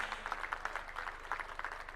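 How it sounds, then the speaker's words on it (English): Audience at a school centenary celebration applauding the president, a brief, faint spell of scattered clapping from a distance. "A round of applause for His Excellency."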